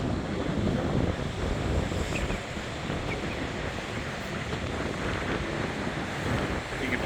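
Strong coastal wind buffets the microphone on an old coast road in Curry County, a constant low, rumbling roar that fills the whole stretch with no speech.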